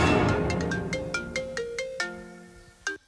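A phone ringtone sounds for an incoming call, a melodic sequence of bright electronic tones stepping through notes one after another, then a final accented tone near the end, heard alone without speech.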